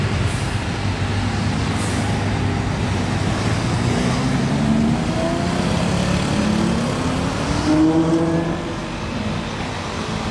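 A hypercar at Top Marques Monaco revs its engine in rising and falling sweeps over steady street noise, loud and fairly close, with the pitch climbing highest near the end.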